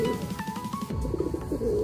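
Soft, low pigeon cooing repeats in a rolling rhythm, fairly close, with a few faint higher chirps and rustles around it.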